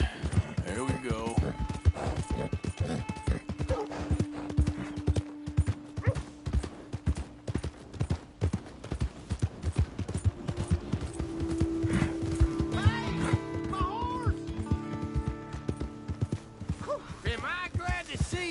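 Repeated clip-clop of horse hooves trotting in Red Dead Redemption 2, under game music and sound effects, with a voice talking over parts of it.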